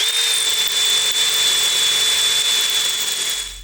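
A power drill bores a larger hole into a stuck brake part during a brake job, a loud, steady high-pitched whine heard up close that runs continuously before cutting off at the end.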